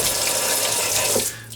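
Water pours steadily from the sprayer of a Delta single-handle kitchen faucet under repair, a loud, close, continuous hiss and splash that stops abruptly near the end.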